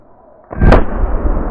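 A single loud gunshot firing a homemade Burton bullet, a sharp close blast with a brief rumbling tail, outdoors at a shooting range, with no speech.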